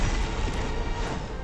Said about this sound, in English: explosions from beside him